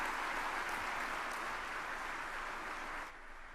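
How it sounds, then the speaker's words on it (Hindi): Faint, distant crowd applause for the Prime Minister at an inauguration ceremony: a steady, dense wash of clapping that drops away near the end. "जोरदार तालियों से स्वागत माननीय प्रधानमंत्री जी का।"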